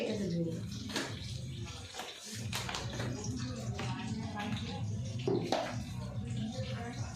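Coriander leaves are washed in water with continuous splashing and running-water sound in a home kitchen, while people talk over it.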